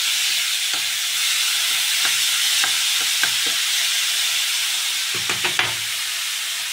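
Beetroot fries in a pan with a steady sizzle, and a utensil stirs it in scattered scrapes and knocks that cluster near the end.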